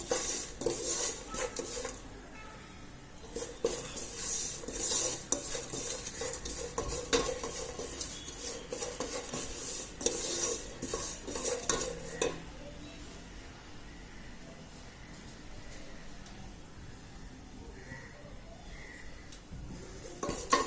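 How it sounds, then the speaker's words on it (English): Sesame seeds pop and crackle in a hot pan while a spoon stirs and scrapes them, made for an oats and dry-fruit chikki; dense clattering for about twelve seconds, then quieter sizzling. "Now the sesame seeds have started popping."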